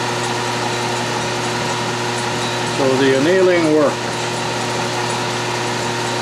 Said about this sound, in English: it is dead soft and drilling very nicely